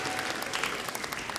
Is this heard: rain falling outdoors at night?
no